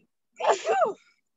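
A single sneeze, close and fairly loud: a quick breathy build-up, then a sharp burst that fades in about half a second.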